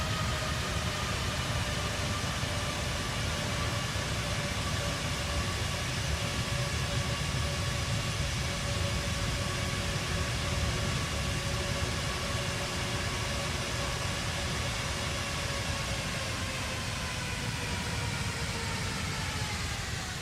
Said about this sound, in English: Check out the engine sounds.